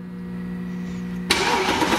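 A Mercedes C63 AMG fitted with new performance engine mounts cranks and fires up after a quiet stretch, then settles into a loud, close, rumbling idle.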